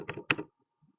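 Two quick close button presses on an HP12C financial calculator, small plastic clicks in a short pair, then quiet.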